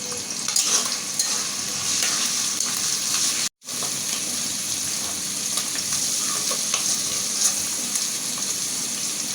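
Loud, steady sizzling of small shrimp and onion frying in a pan with occasional stirring scrapes, broken by one brief silent gap, no voices present.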